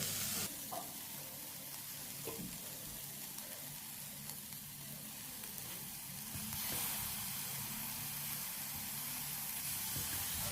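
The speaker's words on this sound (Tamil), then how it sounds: "இப்போ தக்காளியை கட் பண்ணி போட்டாச்சு. இதையும் நல்லா வதக்கிக்கிடுவோம்." Chopped tomatoes sautéing in a pan for a weight-loss soup, giving a steady soft sizzle and hiss throughout with occasional faint stirring scrapes, fairly quiet and close.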